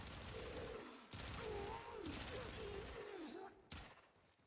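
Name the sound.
Qorvex gunfire from the video game Warframe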